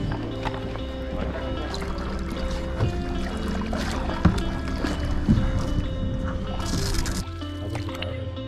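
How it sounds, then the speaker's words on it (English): A canoe is paddled across a lake in Algonquin Park, with soft rhythmic paddle strokes, dripping and gentle water splashes close by, and a voice speaking at times. "So we're about 4 kilometers into the paddle right now."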